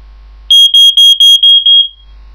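Smoke alarm sounding during a test-button press: six very loud, piercing, high-pitched beeps in quick regular succession, close by, ending with a short fading tone, with no talking.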